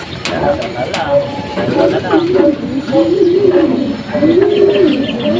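Racing pigeons at a loft give soft, repeated rolling coos close by, with occasional chirps and background noise while people speak nearby.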